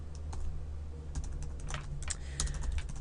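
Computer keyboard keys clatter in a quick, irregular run of light taps while someone types PHP code, fairly close and steady throughout with no talking.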